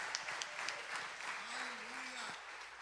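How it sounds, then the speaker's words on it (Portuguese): Applause from a church congregation at an evening family service, a steady wash of clapping with a voice rising over it partway through. "Vamos dar uma salva de palmas para o nosso Deus."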